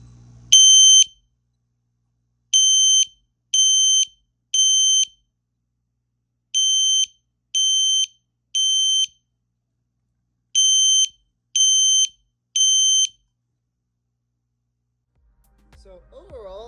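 An L-Series LED weatherproof fire alarm set to 3000 Hz low volume sounds in groups of three loud, even electronic beeps separated by short pauses, with brief noise at the end.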